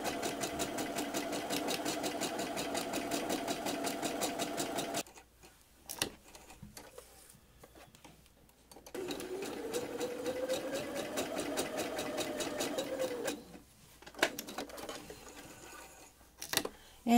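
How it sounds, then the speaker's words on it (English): A sewing machine runs two long bursts of straight stitching across the top of square fabric skirt panels, each burst a steady rapid whir with short pauses and small clicks between them and a brief restart at the end. "I'm going to do 2 rows close together of straight stitches across the top of the square panels to gather the skirt at the waist"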